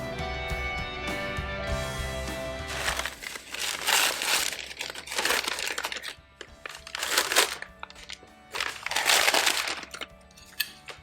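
Crinkling and rustling of wrapping paper as antique china pieces are unwrapped, in bursts of crackling close to the mic with short pauses between, following a steadier opening stretch.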